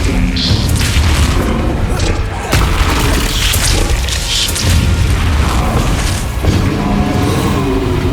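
Spell blasts in Hogwarts Legacy combat, loud booming explosions and crashes following one another almost without pause, with a voice calling out spells over the din.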